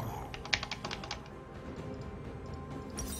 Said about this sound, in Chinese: 你们有没有听见我键盘声？